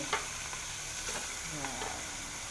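Meat sautéing in a pan, a constant moderate sizzle with a few light scrapes and clicks from stirring, fairly quiet overall.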